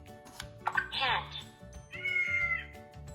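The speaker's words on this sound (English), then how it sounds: "This is a cat." A cat meows twice, a rising call followed by a longer drawn-out meow, close and clear over a faint background of soft music.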